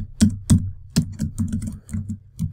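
Keys clatter at close range on a computer keyboard as a name is typed, about eight distinct strokes in an uneven rhythm with no voice over them.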